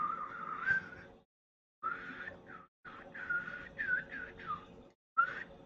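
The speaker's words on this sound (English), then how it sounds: "can I whistle? I used to be able to whistle really well when I was younger" A person whistles unsteadily up close, breathy wavering tones in short phrases broken by brief pauses, alone and fairly soft.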